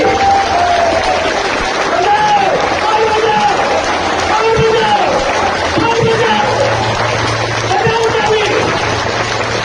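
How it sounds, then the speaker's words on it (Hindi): A large crowd at a political rally applauds continuously, dense loud clapping with scattered cheers and shouts throughout, unbroken from start to finish. "बजाओ सब मिलकर मनोरंजन टंडन के लिए ताली"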